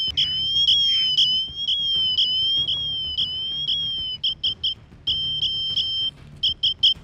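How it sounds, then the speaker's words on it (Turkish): An Apple Watch Ultra emergency siren in a forest sounds a shrill, high two-tone electronic wail, pulsing in rapid repeated bursts, loud and piercing, with brief gaps between runs. "o siren ekranından çıksanız bile siren çalmaya devam ediyor"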